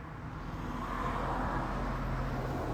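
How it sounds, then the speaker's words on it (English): Low, steady rumble of road traffic in the distance on a Friday night in Florida, a constant wash of passing vehicles with no voices. "Sorry about the road noise again."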